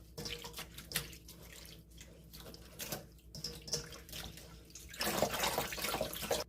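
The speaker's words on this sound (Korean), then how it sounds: "이렇게 쌀뜨물에 헹궈 주는 거예요." Rapeseed greens rinsed in rice-rinse water in a kitchen, a soft, steady trickle and slosh of water that swells into a louder, fuller splashing toward the end, with no talking.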